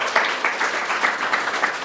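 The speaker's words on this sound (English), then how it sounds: "Maybe we should really applaud my husband" Audience clapping breaks out in a morning gathering, several hands beating in a loose, slightly uneven rhythm, moderately close and fairly brief.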